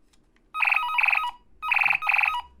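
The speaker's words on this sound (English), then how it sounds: "now he makes a phone call noise while he's shooting his gun" Electronic telephone-ring noise from a toy action figure, two bursts of rapid trilling chirps separated by a short pause, clear and fairly loud over a quiet background.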